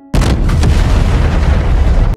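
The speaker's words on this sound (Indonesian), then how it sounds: "Oh Ji-hwan melapor pada Yusok, tes operasional distrik A bermasalah, pembangkit listriknya meledak." A power plant explodes in a drama series with a sudden loud, sustained roar and rumble that fills the whole stretch, cutting off abruptly at the end.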